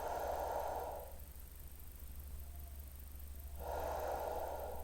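Slow breathing during a stretch and mobility exercise, soft nasal inhales and exhales heard close and quiet over a steady background hum, in two breathy bursts separated by a pause.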